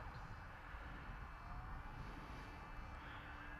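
A Volantex Ranger 2400 RC plane flies overhead, its electric motor giving a steady, moderately distant drone with a slowly shifting whine over low wind rumble.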